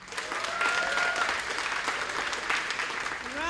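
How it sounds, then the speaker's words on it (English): An audience at a national school debate in Papua New Guinea gives a debate speaker continuous applause that stays steady and full throughout, with a faint voice briefly heard near the end. "A round of applause for the last and final speaker of Kokopo Secondary, Raymond Kalai"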